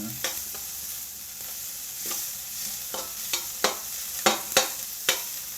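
Onions frying in a pan with a splash of added oil, a steady close sizzle broken by repeated scraping stirs and sharp clacks of a utensil at irregular intervals.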